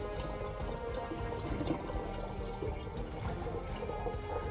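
A honey and water mead mixture is bailed out of a full pot, giving soft, continuous sloshing and pouring at close range, fairly quiet and without talk.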